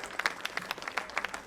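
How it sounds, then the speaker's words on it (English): A small audience at an outdoor Cherokee storytelling festival claps briefly in sparse, irregular hand claps, close and moderately loud. "get them started with a good round of applause"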